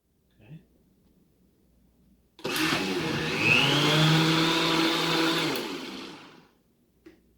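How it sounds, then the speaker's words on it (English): Blender whirring oats and chilled water into oat milk, kicking on abruptly and running loud and steady for about four seconds before winding down, with brief faint sounds before and after. "So stop the blender after 20 seconds."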